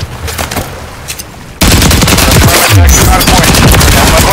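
Gunfire in a hardpoint match of an online shooter. A short, quieter stretch gives way to loud, dense automatic bursts that run continuously to the end.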